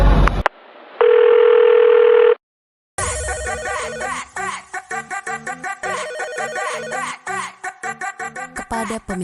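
A telephone call tone sounds loud and close: a steady single tone held for over a second, then a busy, repeating melodic ringtone pattern that carries on without voices.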